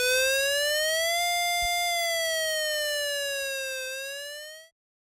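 A Korean civil defense disaster warning siren sounds loud and alone, holding one steady wailing tone that swells slightly in pitch and then eases back down before cutting off abruptly after nearly five seconds.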